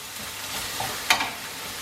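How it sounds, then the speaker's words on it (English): Onions frying in a pan with a steady, even sizzle throughout, broken near the middle by a brief, sharper clatter as they are stirred. "the onions are cooking nicely"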